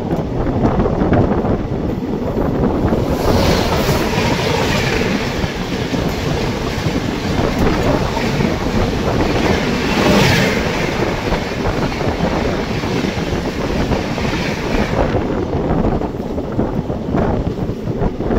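The Kanchenjunga Express, running with ICF coaches, gives a steady, loud onboard rumble with rattling and gusts of wind buffeting the microphone, no voices.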